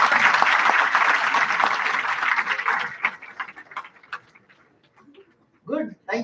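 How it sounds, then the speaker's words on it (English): An audience in a symposium hall applauds, the dense clapping loud and sustained for about three seconds, then thinning into scattered claps and dying away, with voices speaking near the end. "Give a round of applause for each one of you guys."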